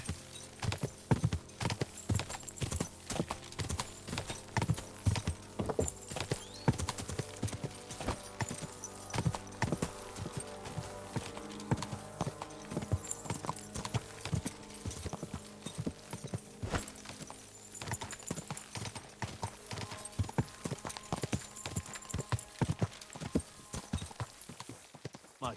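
Horse hooves clip-clop in Kingdom Come: Deliverance II, a long run of steady, even steps heard close and clear with no talk over them.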